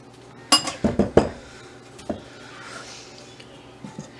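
Sugar goes into a mixing bowl for peanut butter cookies, with a quick cluster of bright clinks from utensils against the bowl, then a few softer, sparser taps.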